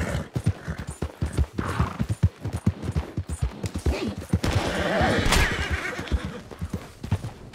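A horse in the Western video game Red Dead Redemption 2 clip-clops in a quick, even hoof rhythm, then gives a loud, close whinny near the end, with no talking over it.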